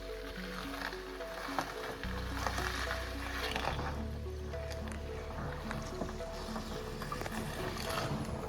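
A boat engine runs steadily on a forest river trip, a continuous low droning hum with water wash over it, holding a constant level throughout without pauses.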